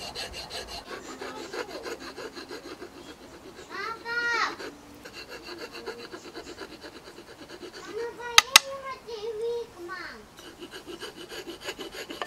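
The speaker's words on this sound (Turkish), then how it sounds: "En son sımparayla kabzamızı şekillendirmeyi tamamlayacağım." A handmade bushcraft knife's wooden handle being shaped by hand with a rasp and sandpaper, giving repeated scraping, rubbing strokes in a steady rhythm, close up, with a couple of sharp knocks near the end and no talking.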